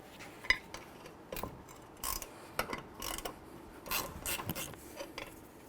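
A hand ratchet works a brake caliper bolt on a 1999-2007 Chevy Silverado rear brake, heard as irregular short clicking and scraping bursts at close range with quiet gaps between them.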